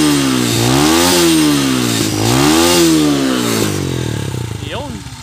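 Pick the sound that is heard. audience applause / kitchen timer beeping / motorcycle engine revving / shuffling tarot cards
motorcycle engine revving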